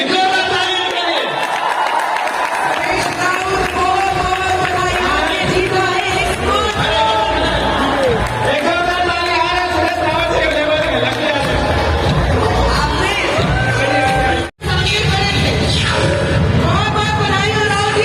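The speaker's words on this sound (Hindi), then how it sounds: "रावत जी, एक और ताली के लिए।" An audience in a packed indoor stadium in Raipur cheers and claps in a steady, dense roar under a loud amplified voice. The roar cuts out briefly near the end.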